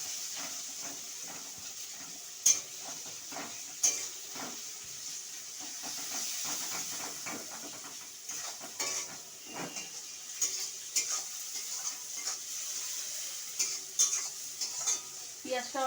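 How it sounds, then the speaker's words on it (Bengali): Onions frying in a pan after turmeric and salt have gone in, a steady sizzle and hiss with scraping stirs recurring throughout, close and fairly quiet, no talking. "এবার পেঁয়াজটাকে আমি একটু ভেজে নেব।"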